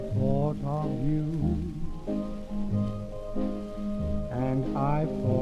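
Original 1930s recording of a song: a crooning vocal melody over soft band accompaniment, with old-record surface crackle and hiss throughout, moderately quiet.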